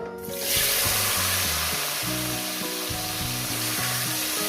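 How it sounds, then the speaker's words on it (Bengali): Paneer for paneer posto being gently stirred as it fries in hot oil, a dense continuous sizzle that swells at the start and then holds steady, close up, with no talking. "হালকা করে একটু নেড়ে নিলাম"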